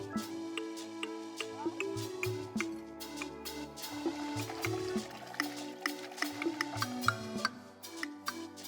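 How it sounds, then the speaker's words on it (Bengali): Cut potatoes being washed by hand in a bucket of water, with close, irregular sloshing, splashing and knocking of the pieces against each other and the bucket. "কেটে রাখা আলু বালতিতে ভিজিয়ে ভালো করে ধুয়ে নেওয়া হয়"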